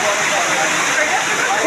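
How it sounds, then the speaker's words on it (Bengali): Heavy rain pours down in Mirpur, Kushtia as a steady, dense, loud hiss that stays close and unbroken throughout the short stretch, with no other sounds standing out. "প্রচুর বৃষ্টি হচ্ছে।"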